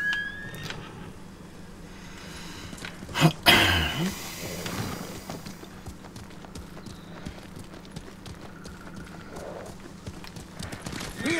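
Horse hooves clip-clop at a steady walking pace over a low ambient backdrop in the video game Ghost of Tsushima, with a brief louder clatter partway through.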